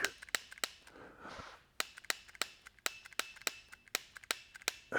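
Dry-fire trigger clicks from a laser training pistol, sharp, close and fairly quiet, repeating at a steady pace of roughly two per second with a brief rustle in between.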